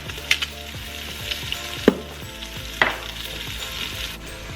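Short ribs searing in a pressure cooker, with a steady close frying sizzle and a few clinks and scrapes as the meat is turned.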